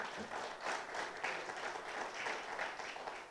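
A Tea Party crowd applauds a state attorney general's remark, a fairly distant, even wash of many hands clapping that holds steady for several seconds.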